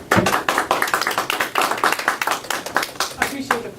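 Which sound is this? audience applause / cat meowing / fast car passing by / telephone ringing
audience applause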